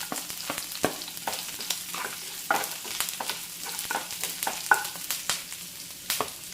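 Chopped small onions fry in hot oil with green chillies and curry leaves for broken wheat upma; a soft sizzle runs under frequent sharp spatula clicks and scrapes close to the pan.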